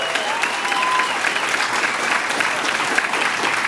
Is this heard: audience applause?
yes